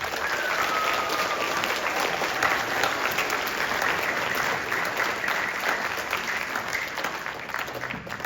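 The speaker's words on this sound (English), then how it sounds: "how about a big round of applause for our parents?" Steady, dense applause from a concert audience at a spring songwriting concert, sustained and fairly loud throughout with no talk over it.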